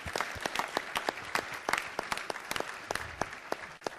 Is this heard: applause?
yes